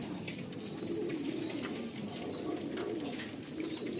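Madrasi pigeons in a breeding loft, soft overlapping cooing close by with repeated murmuring coos and a few faint chirps.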